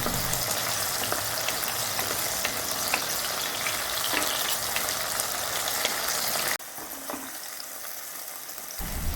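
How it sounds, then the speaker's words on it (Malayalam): Shallots sautéing in hot oil in a pan give a steady, close frying sizzle that runs loud and continuous, then drops to a softer hiss near the end. "ഉള്ളി നമുക്ക് നല്ലപോലെ വഴറ്റിയെടുക്കണം"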